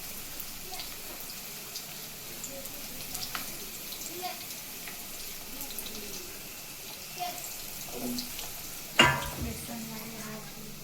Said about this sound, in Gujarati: તમે જોઈ શકો છો તો ભીંડી નાખી દીધી છે ફ્રાય થવા